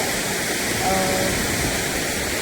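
Water flowing at a water spot on the Kas plateau, a steady broadband rushing like a small waterfall or stream, close and continuous throughout without any clear talk.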